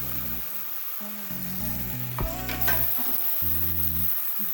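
Capsicum sizzles steadily in a hot pan for a spicy vegetable pasta, a continuous frying hiss with brief stirring clatter in the middle.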